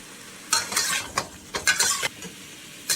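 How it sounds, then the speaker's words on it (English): Scallops and prawns stir-fried in a hot wok, with a steady sizzle broken by several quick scraping stirs of a spatula, close and fairly loud, and no voices. "When the wok is nice and hot, put in your scallops and your prawns. Do a quick stir fry for 45 seconds to a minute."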